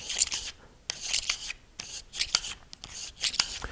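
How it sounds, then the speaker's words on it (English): A bore brush scrubs back and forth inside a Glock pistol barrel, giving a series of short, raspy rubbing strokes in an uneven rhythm, quiet and close up with no talking. "We can put that back and forth through the barrel just a couple times."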